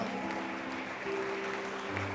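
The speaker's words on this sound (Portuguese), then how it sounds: "Aplauda o Senhor bem forte." A church congregation applauds during an online communion service, steady dense clapping held throughout with sustained organ or keyboard tones underneath.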